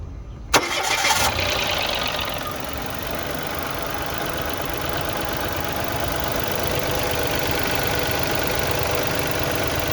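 A car engine cranks briefly on a DIY 50Ah LiFePO4 battery, then catches and settles into a steady, even idle that continues close by.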